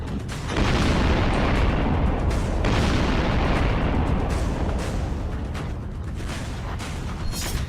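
A Russian missile strike explosion on a residential building in Kyiv: a loud, sustained roaring blast with deep rumbling that holds for several seconds, with no voices.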